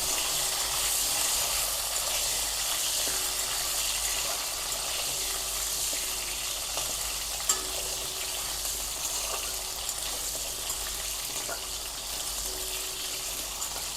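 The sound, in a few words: potatoes frying in a pan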